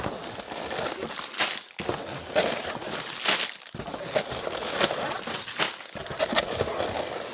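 Plastic bags from a LEGO set box crinkle and rustle close by in a steady stream of handling, with brief pauses between bursts of crackling.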